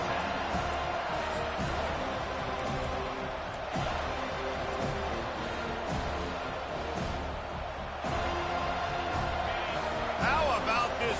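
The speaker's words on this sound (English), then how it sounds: "How about this crowd rattling the rafters and trying to help their defense?" Stadium crowd in the NCAA 25 college football video game, a steady, dense roar filling the background, with a play-by-play commentator talking over it throughout.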